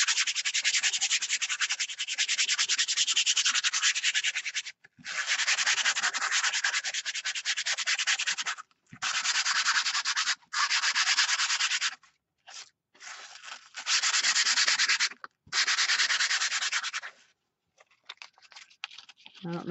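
Fine-grit sandpaper is rubbed back and forth in close, scratchy bursts of several seconds each, separated by short pauses.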